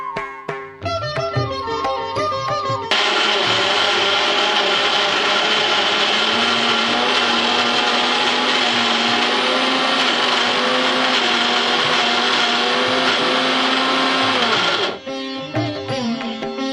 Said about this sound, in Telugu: ముందుగా నానబెట్టిన మినపప్పు